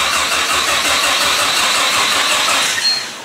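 A car engine cranks and catches, then runs with a steady broadband roar that stays loud throughout, easing slightly at the end.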